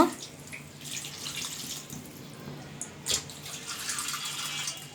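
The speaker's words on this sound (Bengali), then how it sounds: "তারপর এর ভিতর পানি দিয়ে দেওয়া হলো।" Water pours into a wok holding soaked banana, a continuous splashing, running flow heard close and fairly quiet, with a small splash partway through.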